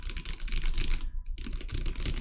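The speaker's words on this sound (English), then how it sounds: "I'm using a lot of different switches in this keyboard. Like all of these right here are jelly black switches, which are really smooth and very clacky." Rapid, continuous typing on a mechanical keyboard fitted with jelly black switches, close and clacky, with one brief pause in the middle before the keystrokes resume.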